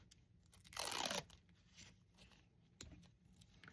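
Floral tape handled while assembling yarn heart picks: one loud crinkly tearing burst lasting about half a second, followed by faint rustles and a small tap, all close and quiet.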